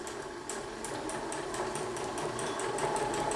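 A sewing machine stitches a quarter-inch quilt seam, running steadily with a fast mechanical whir and a faint ticking needle rhythm throughout, close and even, with no talk.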